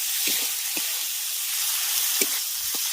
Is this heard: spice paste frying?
yes